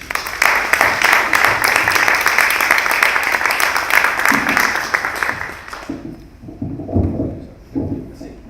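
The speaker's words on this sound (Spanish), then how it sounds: "le pido que lo recibamos con un muy fuerte aplauso" An audience at a book presentation at a university law faculty applauds strongly and steadily for about six seconds, then the clapping dies away into shuffling, knocks and movement in the room.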